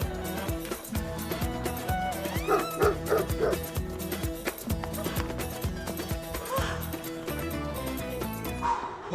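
A dog barks repeatedly in sharp, loud bursts close by, with whimpers and yips mixed in over a steady backing of music.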